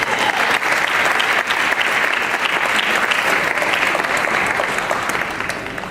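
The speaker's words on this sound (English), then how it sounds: "Again, one more round of applause." An audience at a Hamtramck MLK breakfast in 2018 claps steadily in a thick, even round of applause that holds for several seconds and then tapers off at the close.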